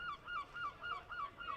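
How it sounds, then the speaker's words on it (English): A bird gives six quick honking calls, somewhat like a friendly seagull, at a steady rhythm, moderately close against a quiet background at a cricket ground. "He sounds like a friendly seagull, doesn't he?"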